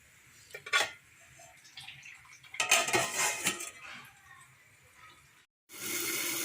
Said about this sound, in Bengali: এরপরে এটাকে নেড়ে চেড়ে ঢাকা দিয়ে দেব।